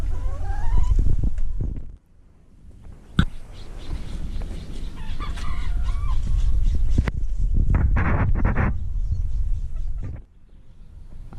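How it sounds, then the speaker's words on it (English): Small miniature pet birds call in a sunny San Diego backyard, with loud clucking and squawking bursts close by, interrupted by brief pauses. "They're really beautiful birds. They're miniature,"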